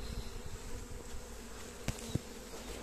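Honey bees buzz steadily around an open hive frame lifted from a brood box, a continuous close drone with a couple of brief knocks partway through.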